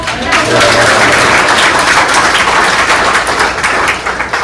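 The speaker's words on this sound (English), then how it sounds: "Round of applause." Loud, dense applause from a business event audience at a Nashville real estate market briefing, sustained clapping filling the room for several seconds.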